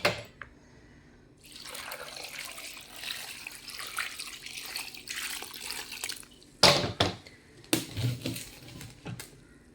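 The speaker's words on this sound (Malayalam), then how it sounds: "നമുക്കിതിന് ആവശ്യത്തിനുള്ള വെള്ളം ഒഴിച്ചു കൊടുക്കാം" Water poured from a tap or jug into a sambar pot in a home kitchen, a steady splashing pour for several seconds that breaks into a few short, louder splashes and drips near the end.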